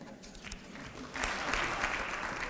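Applause from an audience at a Founders Day speech, a steady wash of clapping that swells partway through and continues alone, fairly distant and even.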